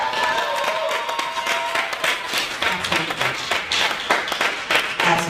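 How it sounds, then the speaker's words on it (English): An audience at a Head Start sneaker ball in a hall gives a round of applause, with sharp, close individual claps layered over a steady crowd patter that continues for several seconds. "can we give those who are part of JCCDC a round of applause as well?"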